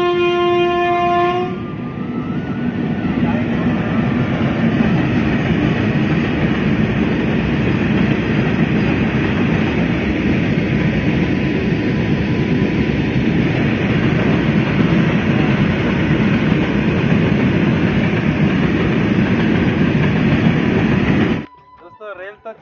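A train runs along the Rourkela–Barsuan railway line between Mundajore and Dumerta. Horn blasts open a loud, steady, close rumble that continues throughout, then it cuts off abruptly near the end.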